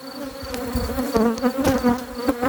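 Bees buzz around an apiary hive, a close, droning hum with several insects passing near, varying in pitch and loudness as they fly by.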